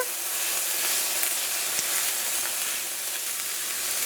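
Mushrooms from a 4-ounce can hitting a hot pan of bell peppers set up a steady, even sizzle and frying hiss that runs on without pause, with no talking.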